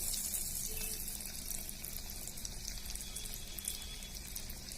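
Fish fry pieces sizzle in hot oil in a pan as a steady, dense hiss and crackle that stays even and close throughout, with no talk.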